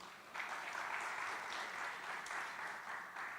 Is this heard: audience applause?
yes